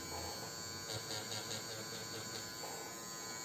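A tattoo machine fitted with a magnum needle hums steadily while shading a religious realism piece, a faint continuous electric buzz with slight pulsing and no voices.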